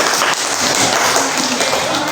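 A class bursts into applause, dense rapid clapping of many hands at steady loudness for a couple of seconds.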